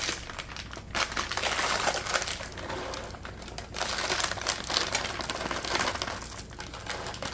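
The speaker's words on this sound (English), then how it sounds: "this is when I want to fold in the chocolate chips" Chocolate chips are folded into angel pound cake dough, producing close, continuous soft crinkling and squishing textures that swell and ease in uneven waves, with no talking.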